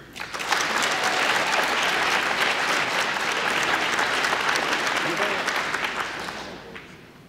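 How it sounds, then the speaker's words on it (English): Sustained audience applause fills a high school awards ceremony at Black River Public School, a dense wash of clapping that swells quickly, holds steady for several seconds, then fades out near the end. "One more round of applause for this academic excellence"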